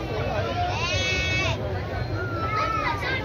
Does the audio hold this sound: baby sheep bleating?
yes